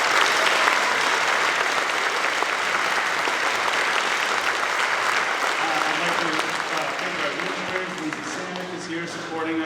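A school band concert audience gives a sustained round of applause, dense and loud at first, then gradually thinning and softening toward the end.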